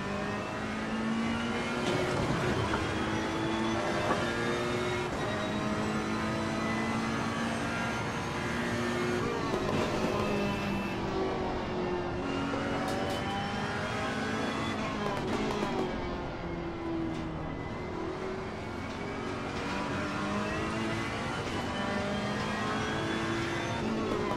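A racing car engine in the Assetto Corsa Competizione game drones steadily for the whole stretch, revving up and down through gear changes without a break.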